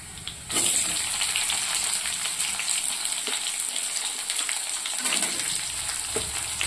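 Sliced onions dropped into hot oil set off a sudden loud sizzle just after the start, settling into steady, close frying with scattered small crackles and pops.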